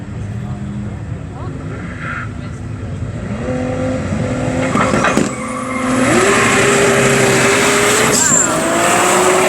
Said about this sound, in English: Both on their first runs on the drag strip.